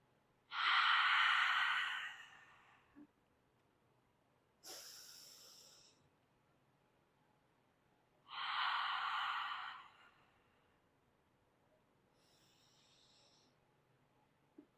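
Slow, deliberate yoga breaths during a vinyasa flow into goddess pose: two long airy inhales and two shorter, sharper exhales, close and clear against a quiet room with no talk.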